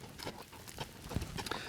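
A ranch horse's hooves strike the ground while it turns during training, irregular soft thuds at close range over a steady outdoor rumble.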